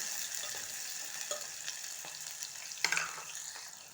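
Green chillies and onions being stirred in a hot pan with cumin, a steady sizzle of frying with occasional scraping strokes of the spoon, close and moderately loud, no voices.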